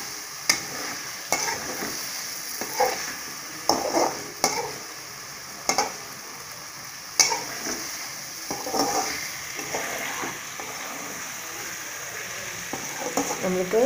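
A spoon stirs masala egg fry around a sizzling pan, with scraping strokes at irregular intervals over a constant frying hiss.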